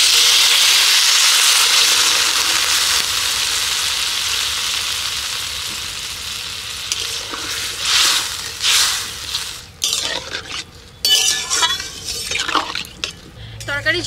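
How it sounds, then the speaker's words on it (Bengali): Water is poured into a hot pan of curry with turmeric and salt for a fish and greens dish, giving a loud steady steaming hiss that slowly fades, then stirring clatter and scraping. "এবার দিয়ে দিচ্ছি জল।"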